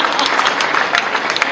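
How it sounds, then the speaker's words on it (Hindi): Audience clapping at a literature festival in Jaipur, a short, loud burst of many hands applauding close by, lasting under two seconds. "अब प्लीज थोड़ी ताली बजा दीजिए"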